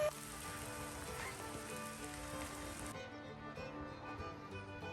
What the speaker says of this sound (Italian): La pioggia ci ha sorpresi così all'improvviso.